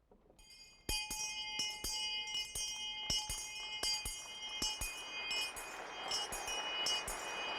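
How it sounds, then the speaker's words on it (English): A handheld brass bell, once owned by Wabash College's first professor, Caleb Mills, rings repeatedly at a graduation ringing-in ceremony, with clear, bright strikes in an uneven, steady rhythm, loud and close, while a crowd murmurs faintly behind. "using his bell, ring you into the company of Wabash men"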